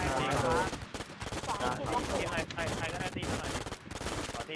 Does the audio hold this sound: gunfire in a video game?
yes